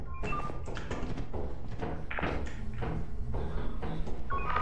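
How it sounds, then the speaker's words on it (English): Repeated heavy thumps from the Thumper monster in Lethal Company, a run of loud irregular pounding impacts close by with little else over them. "We hear some thumping."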